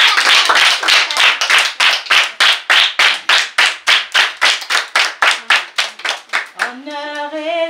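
A church congregation at a worship service claps in a steady, even rhythm of about twenty loud, close claps, then a voice begins singing or speaking at the end.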